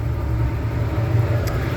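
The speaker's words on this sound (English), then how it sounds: "It sounds like there's a bad bearing or something up in the front where the pulleys are." A Ford Bronco II engine idles steadily with a low, even rumble and a faint whirring from a bad bearing at the front pulleys, heard close up and alone for under two seconds.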